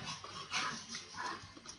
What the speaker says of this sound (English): You can probably hear my dogs fighting in the background.